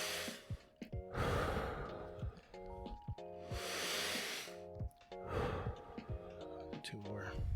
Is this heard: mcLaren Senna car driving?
no